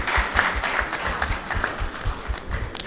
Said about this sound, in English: Please, a round of applause for Dada Olusegun.